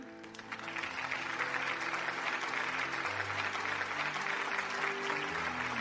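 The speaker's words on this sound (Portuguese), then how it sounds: "Merecem um aplauso." Sustained applause from an audience at a 30th-anniversary gala on a stage in Torres Novas fills the whole stretch, a dense, steady patter of many hands with faint music beneath.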